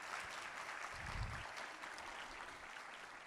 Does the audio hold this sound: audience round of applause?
yes